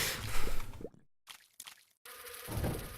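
Flies buzz in The Binding of Isaac video game, a dense insect drone broken by a couple of short silent gaps and wet squishy spits, close and fairly loud.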